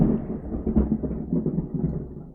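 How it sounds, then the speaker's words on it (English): Thunder outside rolls as a low, uneven rumble heard from indoors, with several soft swells and no voices over it. "did you hear the thunder outside?"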